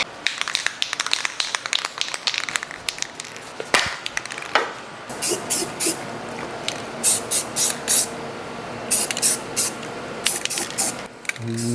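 Cleaner sprayed from a trigger bottle onto the spring of a Chevy S10 truck, many short close spritzes, fast and irregular at first, then in spaced bursts with light handling knocks.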